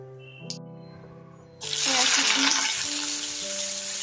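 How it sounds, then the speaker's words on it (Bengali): Whole cumin seeds drop into hot oil in a kadai, setting off a loud, steady sizzle that stays up after a quiet start with a faint rattle. "তেলটা গরম হয়ে গেছে, তো একটু সামান্য জিরে ছিল, গোটা জিরে দিয়ে দিলাম।"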